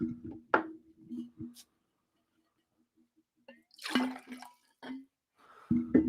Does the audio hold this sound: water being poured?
yes